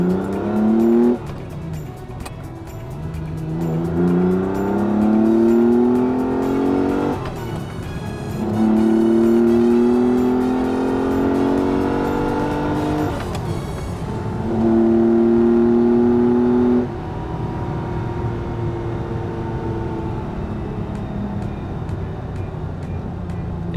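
A Ferrari 365 GT4 BB, its flat-12 engine derived from Formula One, pulls through several rising gears in sustained loud sweeps, each climb cut by a brief gap as it shifts, then settles into a steadier cruise.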